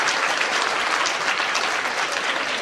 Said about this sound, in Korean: 우리 스님을 위해서 박수 한번 해주세요